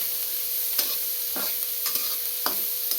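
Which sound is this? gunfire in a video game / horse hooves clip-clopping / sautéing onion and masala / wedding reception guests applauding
sautéing onion and masala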